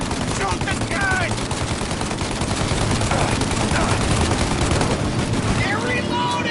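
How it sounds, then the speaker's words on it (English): Sustained gunfire in the video game Mafia: Definitive Edition, with dense, continuous shots running throughout a busy firefight mix that also carries voices and other game sounds. "Shoot out your gun when there's a break in the fire!"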